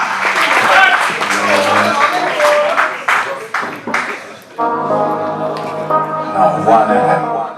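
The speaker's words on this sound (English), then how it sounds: "Round of applause to both huge fighters." Applause at a fight press conference, with clapping in the first few seconds over talk, then giving way to tonal music with loud voices.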